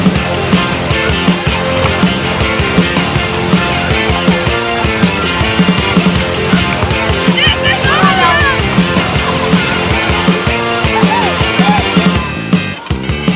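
Water sloshing and splashing on a five-person family raft ride at a water park, a loud, continuous churning wash with scattered splatters under ongoing talk.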